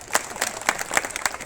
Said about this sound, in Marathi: आपण सुरेश अण्णासाठी जोरदार टाळ्या वाजवायच्या